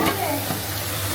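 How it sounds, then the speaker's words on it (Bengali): Bora fritters fry in hot oil, a close, continuous crackling sizzle with a light stirring scrape, and no voices. "এই যে আমার বড়া ভাজা হয়ে গেছে, এখন আমি হচ্ছে তুলে ফেলবো।"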